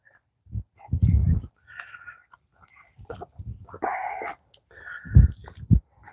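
A pet animal sneezes in a few sharp, breathy bursts near the microphone, spaced apart, while a person talks softly to it between the sneezes.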